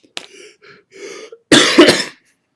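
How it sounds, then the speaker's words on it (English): A single throaty cough bursts out loudly after a few faint, breathy murmurs, then stops abruptly into silence. "that cough is probably going to be the most exciting part of this video"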